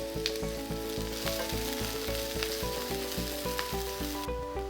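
Chopped onions sizzle and crackle in hot olive oil in a pan, with a steady loud frying hiss and a few clinks and stirring sounds throughout; no one speaks.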